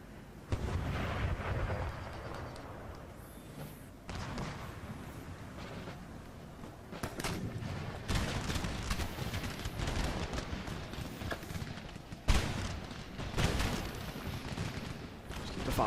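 Massed musket volleys and booming artillery fire from a large battle in the strategy game Empire: Total War, with dense crackling fusillades and heavy bursts rolling on continuously, a sharp loud blast standing out near the end.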